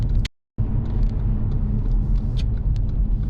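A car's engine hums and rumbles steadily from inside the cabin while it drives around a UK roundabout and shifts to second gear, after a brief dropout near the start.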